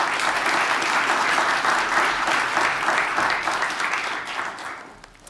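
Sustained audience applause at a student inventors' national award gala, steady and dense clapping from a large crowd that holds level before tapering off at the end.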